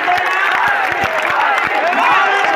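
A large crowd at a Dasara rally at Narayangad applauds and cheers steadily, loud and close throughout, with rhythmic clapping and voices blending under a constant roar.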